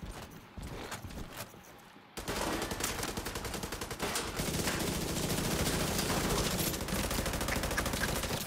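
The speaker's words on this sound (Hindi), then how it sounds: "क्या मिनी गन से मार रहे हैं।" Minigun fire in The Division 2's dark zone erupts suddenly and runs as a loud, continuous, rapid-fire roar that keeps building and never lets up.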